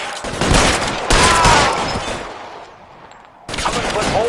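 Gunfire from the video game L.A. Noire, with dense bursts of shots rattling through most of the scene, a brief lull, then another loud volley near the end.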